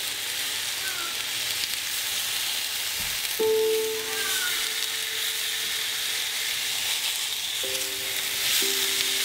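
Meat searing in a hot pan, a steady broadband sizzle and crackle that runs throughout at close range, with a few brief tonal clinks or scrapes partway through and no talk.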